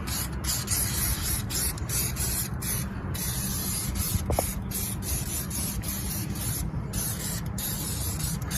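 A spray gun applies wax undercoat to the underbody of an INEOS Grenadier with a steady, close hiss broken by brief regular pauses, and no one speaks.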